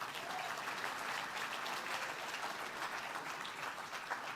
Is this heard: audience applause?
yes